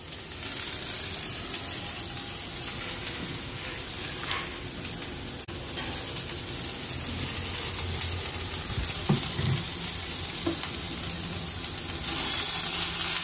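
Jute greens mixed with grated coconut sizzle steadily in a hot pan, a continuous close frying hiss broken by occasional scraping stirs of the spatula.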